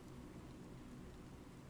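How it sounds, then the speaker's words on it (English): Steady, soft rain falls outdoors in the cold, a faint, even hiss with no distinct drops or voices. "It's raining."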